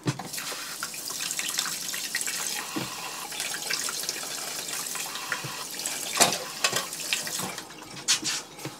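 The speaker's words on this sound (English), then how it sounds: "So I'm gonna give these a wash and cut them up." Green, red and yellow bell peppers are rinsed under a running kitchen tap, a steady splashing stream with occasional sharper splatters as the peppers are turned in the water.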